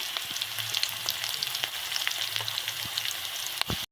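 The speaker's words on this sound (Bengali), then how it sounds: "এরপরও আদা বাটাটা দিয়ে দিচ্ছি" Green chillies, garlic paste and ginger paste fry in hot oil in a pan, a dense, steady crackling sizzle with scattered sharp pops and a couple of light utensil knocks, close and continuous throughout.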